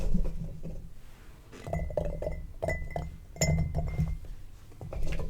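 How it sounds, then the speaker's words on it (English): Glass Ball canning jars clink and knock repeatedly as carrots are packed in for honey ginger carrots, close and fairly loud, with irregular taps over handling noise. "I'm just going to put the carrots at least halfway into the jars"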